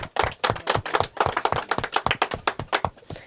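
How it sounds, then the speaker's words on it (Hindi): A crowd claps and applauds for an eight-year-old boy who built a JCB excavator toy, with dense, steady, fairly loud hand claps filling the whole moment and no talking over them. "इनके लिए ताली बजा"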